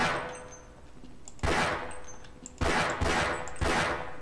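Handgun shots fired at dynamite in the video game Half-Life: four loud, sharp reports spaced irregularly over a few seconds, each with a brief ringing decay, over a low steady game background.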